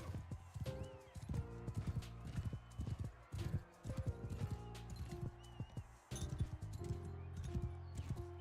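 Horses in the Mount & Blade medieval jousting arena gallop with rhythmic, close hoof clip-clops, broken by repeated whinnies and neighs rising over the pounding steps.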